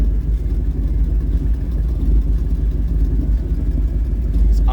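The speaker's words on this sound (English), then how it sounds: "It's idling way smoother." A truck engine with new spark plugs idles at about 750 RPM, a steady low rumble close to the microphone with no revving or talk.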